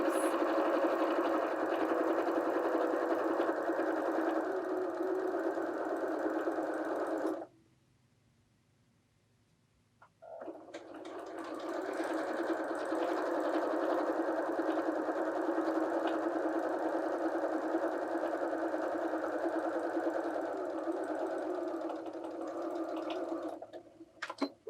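A sewing machine stitches fabric strips for a quilt block, a close, steady whirring hum that stops for a few seconds and then runs again at the same even pace.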